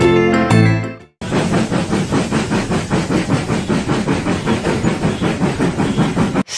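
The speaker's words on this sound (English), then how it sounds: "Steam train." A steam train chuffs loudly and close, its rapid, regular bursts of hissing exhaust pulsing several times a second. A short harmonic sound comes just before the steady chugging begins.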